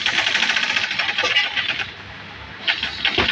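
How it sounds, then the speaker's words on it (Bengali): A sewing machine stitches a seat cover for a Toyota Noah, its motor whirring in a fast, rattling run that pauses briefly and starts again, close and fairly loud with no voice. "দেখুন, সেলাই করে নেওয়া হচ্ছে।"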